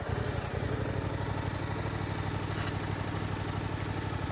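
A Suzuki GSX 8R motorcycle engine pulling away in first gear, with a steady close rumbling drone that holds even throughout and no talking.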